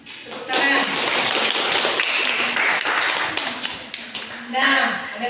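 A classroom of students claps together after a teacher's praise, a loud sustained burst of applause that fades in quickly and tails off, with voices breaking in near the end.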